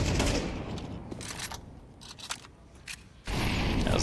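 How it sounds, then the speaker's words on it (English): HE frag grenades in Counter-Strike 2 detonate in a loud burst at the start, followed by scattered gunfire cracks and then another heavy blast near the end, with no speech. "Great frag grenades."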